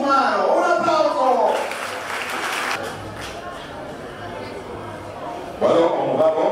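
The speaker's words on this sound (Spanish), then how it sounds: "¡Un aplauso!" Applause from a crowd at a sports club awards ceremony swells briefly between stretches of someone speaking over a microphone, a short burst of clapping that fades as talk resumes.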